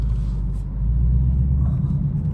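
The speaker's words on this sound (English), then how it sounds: "Yeah, I'm spinning right now." Car wheels spinning on rough ground, a steady low engine rumble and drone held at a constant, fairly loud level without clear changes in pitch.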